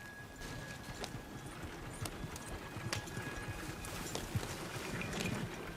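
Horse hooves clip-clop steadily in the Red Dead Redemption video game, a quick rhythmic patter at moderate distance over a low outdoor ambience, with no talk.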